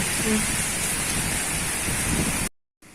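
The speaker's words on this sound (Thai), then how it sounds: "ตกงามๆเด้อฝน" Steady rain pours down outdoors on a cool evening, a dense, even hiss filling the air for most of the stretch before cutting off abruptly into silence, then resuming faintly.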